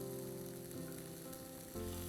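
Peas, green beans and sweet corn fry in a small amount of ghee for a Jain vegetable thuli, making a brief close sizzle under a low steady hum that swells near the end.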